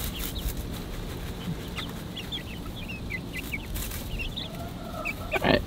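Young chickens in a newly built 10-foot by 7-foot coop cluck and cheep softly and intermittently, with a few louder calls near the end over quiet background.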